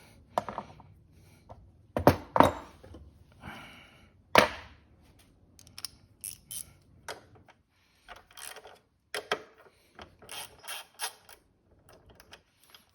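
Bolts being unscrewed from the rear fender of a Honda C125 Super Cub, heard as close, intermittent metallic clicks, creaks and short tool rattles with quiet pauses between bursts.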